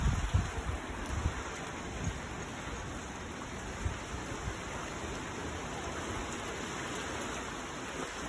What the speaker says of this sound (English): Now we're getting hail. A little bit of hail, not a whole lot.